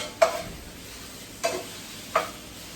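Onions and garlic fry quietly in a pan for chicken fried rice, with three short scraping stir strokes spaced over a faint, steady sizzle.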